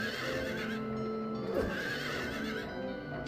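Monster horses in Silent Hill 3 let out a loud, close whinnying neigh over a dense, droning game soundscape, with no talk.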